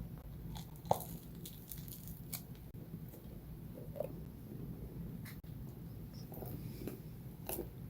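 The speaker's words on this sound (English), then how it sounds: "If you would hear me chewing my sandwich" Someone chewing a sandwich up close, faint soft crunches and bites repeating irregularly against a quiet room background.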